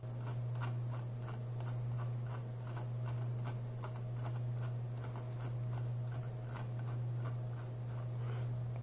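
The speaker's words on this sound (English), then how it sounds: "Scroll wheel click." The scroll wheel of a Dornfinger Veno gaming mouse clicks in a quick, regular series of small, sharp ticks. The clicks sit close up over a constant low electrical hum, and no one speaks.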